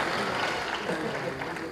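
An audience in Sirifort Auditorium applauds at the launch of an album, a brief, steady rush of clapping with a voice talking over it.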